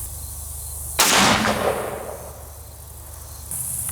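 A single sharp, loud shot from a Ruger Super Redhawk .44 Magnum revolver with a 9.5-inch barrel firing 240-grain Underwood hollow points into a dumpster outdoors, followed by a decaying ring and outdoor ambience.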